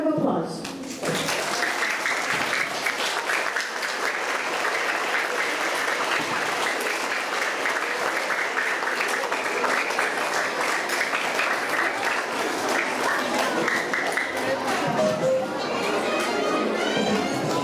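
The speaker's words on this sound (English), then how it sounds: "Let's give these outstanding students a big round of applause." A school assembly audience for third to fifth graders claps for honored students in a dense, sustained round of applause that fills the room for the whole stretch.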